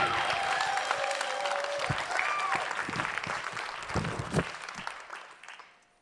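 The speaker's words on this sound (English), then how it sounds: "a huge Brooklyn round of applause for Eliza B." A crowd claps in sustained applause for about five seconds, steady and dense, then tapering off at the end.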